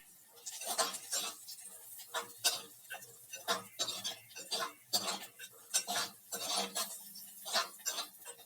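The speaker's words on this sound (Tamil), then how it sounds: "அந்த பச்சை மிளகாய் போட்டு சும்மா லைட்டாக வதக்குங்க" Green chillies being lightly sautéed in a pan for sambar, heard mostly as a series of irregular metallic clinks and taps of a utensil against the pan, fairly close and spaced unevenly.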